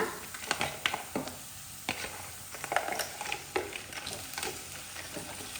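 Marinated sea crab pieces sizzle as they fry with onions in hot oil, with steady close crackling and repeated stirring scrapes and clinks.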